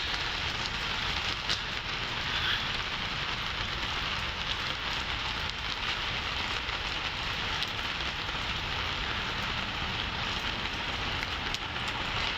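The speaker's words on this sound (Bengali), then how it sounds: "প্রচুর বৃষ্টি।" Heavy rain pours steadily at night in Kuwait, a dense, even hiss of drops striking surfaces nearby that continues unbroken and fairly loud throughout, with no talking.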